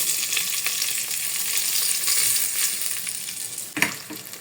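Ogbono seeds melt in a hot pot for okra soup, making a steady close sizzle with a sharp clink of a utensil near the end.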